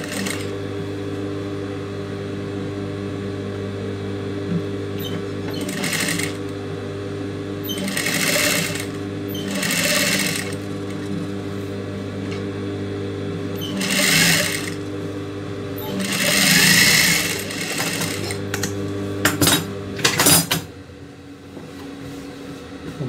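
Domestic sewing machine in a tailoring setup stitching fabric for a garment, its steady motor hum broken by several loud bursts of fast stitching with short pauses, close and without talk.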